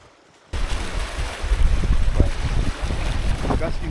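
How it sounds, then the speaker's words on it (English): Strong, gusty wind on Flagstaff Lake, Maine, buffets the microphone in rough, roaring bursts after a quiet start, with a steady low rumble underneath. "Gusty wind, very windy"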